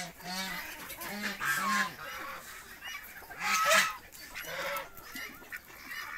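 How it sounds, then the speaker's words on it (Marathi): Pure native desi hens on a poultry farm give repeated, fairly close calls in short bursts, with louder squawks mixed into the flock noise. "ह्या ज्या आहेत ह्या प्युअर गावरान"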